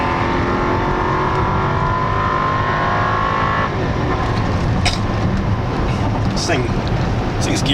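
A 2008 Cadillac SRX with the Northstar V8, fitted with 18-inch wheels, decelerates and drops into second gear, its steady engine drone shifting pitch midway under road noise.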